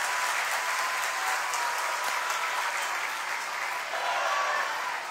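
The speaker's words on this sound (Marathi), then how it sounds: "सर्वप्रथम आपण या सर्व सैनिकांचं टाळ्या वाजवून जोरात स्वागत करावं अशी मी आपल्या सगळ्यांना विनंती करतो" A large crowd at a mass Vande Mataram gathering in Nagpur claps loudly and continuously to welcome soldiers, a sustained wash of applause with no speech over it.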